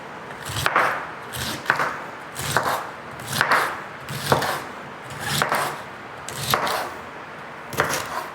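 A knife cuts through tomatoes and green beans on a cutting board at close range, a steady run of about nine crisp thuds spaced roughly a second apart, with no talking.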